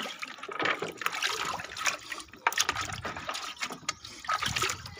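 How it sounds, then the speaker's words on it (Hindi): A bucket fills with water from a tap outdoors, a close, uneven splashing gush with gurgling surges throughout and no talking. "तो बाल्टी भर लेते हैं गाइस फटाफट।"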